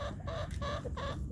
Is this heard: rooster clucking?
yes